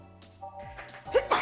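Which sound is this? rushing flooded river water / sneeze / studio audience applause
sneeze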